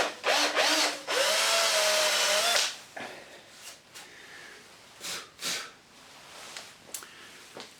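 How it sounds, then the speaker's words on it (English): A power drill fitted with a hole saw bores out a snapped screw in wood, whining loudly and steadily for about two seconds, then giving way to scraping, clunks and handling noises. "it does look like we've actually drilled it out there"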